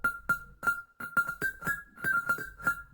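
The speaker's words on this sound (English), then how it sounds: "And I also added another Pluck from UJam," UJam synth pluck in an Afro House arrangement, short bright plucks in an uneven rhythmic pattern with echoing delay tails, quiet and alone.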